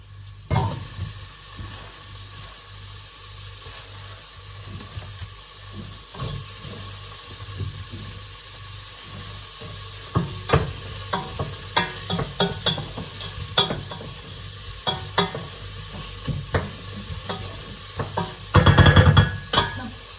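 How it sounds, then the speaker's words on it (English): Onions fry in a pan with a steady sizzle, while a utensil scrapes and taps against the pan through the second half and a louder clatter comes near the end. "Put the onions in."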